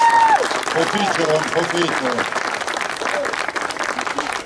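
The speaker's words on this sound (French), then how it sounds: "Ouais, vous pouvez l'applaudir." An audience at an award ceremony in Wattrelos bursts into loud applause that stays dense and gradually eases, while someone speaks briefly over the clapping.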